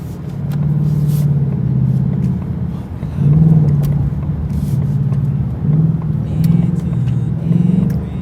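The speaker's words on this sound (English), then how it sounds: "There's that pretty aggressive downshift that I talked about." A 2019 Ford Mustang GT V8 engine drones loudly inside the cabin, its pitch dropping and surging as the 10-speed automatic downshifts abruptly in traffic, with a voice talking over the rumble.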